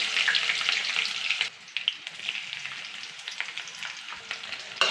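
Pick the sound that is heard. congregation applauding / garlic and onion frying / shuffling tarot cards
garlic and onion frying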